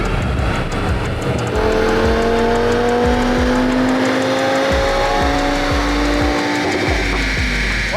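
An Audi TT RS on a dynamometer roars loudly at full throttle, engine pitch climbing steadily through the gears with brief dips at each shift, continuous and close, with no talking.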